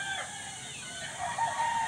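Game fowl chickens and chicks on a breeding farm in Silang, Cavite, with a close rooster crow and clucking over a constant chorus of cheeping chicks.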